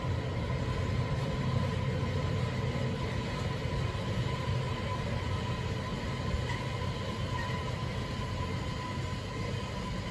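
A JR Hokkaido 733 series rapid Airport train arrives at a platform at New Chitose Airport station, a loud continuous rumble of wheels and motors with a steady whine, no voices.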